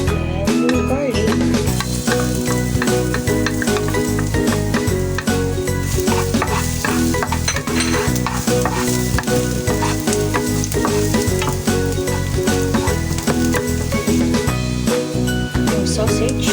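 Garlic fries in oil in a wok with a loud, continuous sizzle while a spatula clatters and scrapes against the metal, close and busy throughout.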